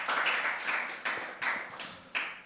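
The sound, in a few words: applause for a student at a Christmas service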